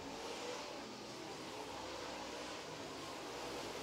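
Late model race cars at a short track come around the turn, their engines blending into a distant, steady roar that holds at an even level throughout.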